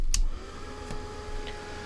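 A hair dryer blows over a wet painting just after asphaltum is brushed on, a continuous airy whir with a sharp click near the start and a few faint knocks, steady at moderate loudness.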